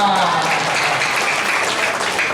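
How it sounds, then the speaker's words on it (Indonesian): An audience at a cadre meeting and work conference breaks into steady, dense applause that stays loud and even for a couple of seconds. "Tepuk tangan dong mana?"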